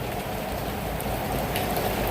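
Heavy rain pours down in Hyderabad during a thunderstorm, a dense, unbroken roar of water hitting surfaces, close and loud with no voices.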